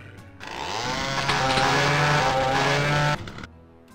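In the video game Doom 2, a chainsaw revs up and runs at a loud, steady buzzing whine for about three seconds before cutting off abruptly, with no talk.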